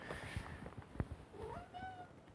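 A house cat meows close by indoors, a couple of drawn-out, rising calls with some soft handling noise in between, fairly quiet overall.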